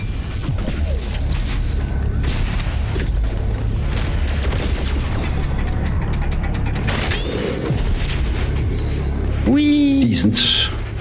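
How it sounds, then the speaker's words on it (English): Ice bomb going off in DOOM Eternal during a fast speedrun, a loud mechanical burst and crunch over dense, continuous game noise and music, with a sharp high crackle near the end. "I'll get an ice bomb ready"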